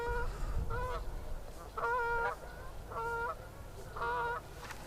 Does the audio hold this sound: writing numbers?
no